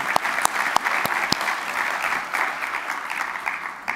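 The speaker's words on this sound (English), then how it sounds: "One more, one more applause" Audience applause at a space station research and STEM education conference, a steady wash of many hands with a few sharp nearby claps standing out, continuous throughout.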